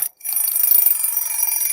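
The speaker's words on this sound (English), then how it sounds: "I heard the alarm." An alarm clock rings with a bright, continuous high-pitched tone that starts after a brief gap and keeps going steadily, close and fairly loud, with no talking over it.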